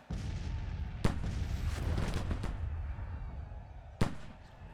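Gunfire and artillery in an American Civil War strategy video game, a continuous rumbling barrage with two sharp cracking blasts standing out, dense and loud.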